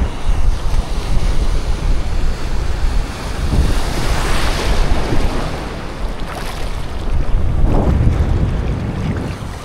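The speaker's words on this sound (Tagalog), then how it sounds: "Malakas yung hangin" Strong wind gusting by the water during shore fishing, with waves and surf washing in; a steady roar with louder gusts swelling around the middle and near the end, close and dominant.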